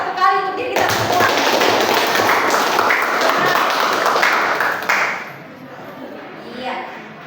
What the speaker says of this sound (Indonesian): beri dulu tepuk tangan 1 kali untuk diri kita semua